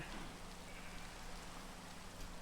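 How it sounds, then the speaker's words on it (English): Steady video game rain falls in a dense, even hiss, soft and continuous with no voices. "It is raining on them."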